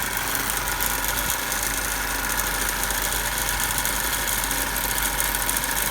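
A DC motor runs steadily on a lab bench during a speed control test, a continuous close mechanical hum and whir with constant level and no talking.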